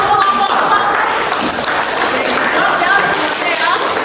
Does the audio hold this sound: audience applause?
yes